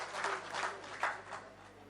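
Audience applause at an Urdu mushaira poetry gathering in Kurla, a short burst of dense clapping from a crowd, loud and continuous throughout with no speech.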